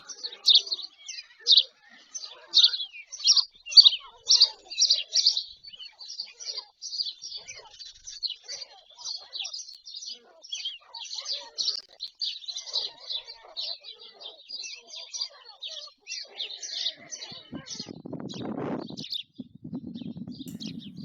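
Dense, high-pitched chirping from many small birds fills most of the stretch, then gives way near the end to a low rustling, flapping noise.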